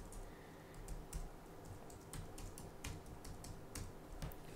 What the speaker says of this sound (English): if I can type this correctly